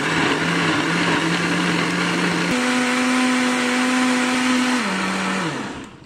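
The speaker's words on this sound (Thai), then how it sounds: "จากนั้นก็ปิดฝาปุ๊บพอไปแล้วก็ทำการปั่นเลยพี่น้อง" An electric blender whirs loudly and steadily as it blends fingerroot with water. Its motor pitch steps up partway through, then drops and winds down at the end.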